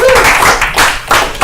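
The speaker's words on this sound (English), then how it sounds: "Round of applause for Kate Cullen." Audience applause at a comedy night in a bar, a short loud burst of close clapping from a small crowd that swells and dips within about a second and a half.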